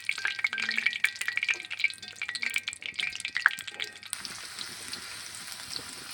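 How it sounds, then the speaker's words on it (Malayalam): Curry leaves fry in hot oil in a pan, crackling and spitting in sharp, irregular pops over a steady sizzle, then settling into a softer continuous hiss. "അത് നല്ലൊരു ഫ്ലേവർ കിട്ടാൻ വേണ്ടിയിട്ടാണ് നമ്മൾ ആദ്യം ഈ കറിവേപ്പില പൊരിച്ചെടുക്കുന്നത്"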